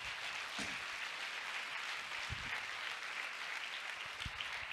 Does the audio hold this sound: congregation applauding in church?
yes